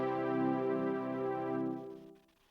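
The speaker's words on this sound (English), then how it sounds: "You can hear the little bit of distortion in the background." Sustained TAL software synth chords with a slight distortion running through them and a sub oscillator engaged, the LFO modulated by the envelope, ringing for about two seconds and then fading out, with no voices.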